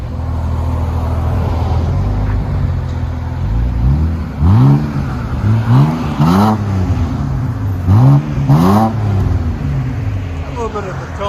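A 2011 BMW 328xi with dual exhaust and the rear muffler deleted idles with a steady drone, then is revved in several sharp, rising-and-falling blips, loud and close.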